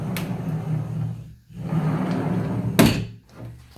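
A newly hung door in a server and hobby room is moved and swings shut, with a dull rumbling sweep, a brief pause, then a sharp thunk, all close by.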